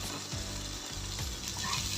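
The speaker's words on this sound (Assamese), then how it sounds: "এতিয়া মই ভালকৈ লৰাই ল'ম।" Spinach and tomato fry in a pan for an Assamese fish curry, a soft continuous sizzle with faint scraping of stirring, close and quiet, with no speech.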